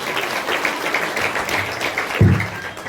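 A church congregation at a Sunday worship service applauding together, a sustained wash of clapping from many hands heard from within the crowd, with a brief thump near the end.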